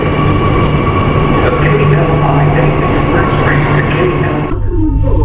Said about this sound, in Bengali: এই যে ট্রেনটা একবার দেখে নিই, ট্রেন ছেড়ে দিল 11:55 বাজে কিন্তু এখন